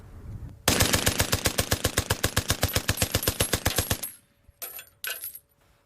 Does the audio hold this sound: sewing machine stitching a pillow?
no